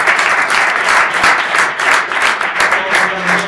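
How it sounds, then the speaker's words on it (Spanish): Church congregation clapping loudly in a dense, sustained wave of applause with slight rhythmic swells throughout, with voices faintly mixed in. "Dale un aplauso al Señor."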